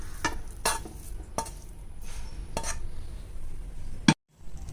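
A spoon stirs nuts into a sticky coconut sweet mixture in a bowl, producing about five distinct scraping, clinking strokes at a relaxed pace over a soft background, then stopping abruptly; no one speaks.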